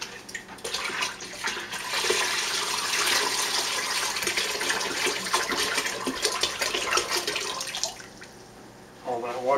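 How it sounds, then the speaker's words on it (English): Rest of the water poured into a mead batch of honey and water, a continuous splashing, gurgling pour lasting several seconds, close and fairly loud, ending in a brief trickle. "And then we go and add the rest of the water."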